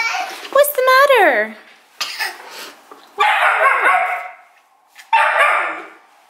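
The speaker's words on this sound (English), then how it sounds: "We're slowly working on teaching her not to yap like that" A small dog barks and yaps in sharp, rising bursts, then lets out longer whiny yelps, all close and loud in a home at dinnertime, with brief gaps of quiet between the outbursts.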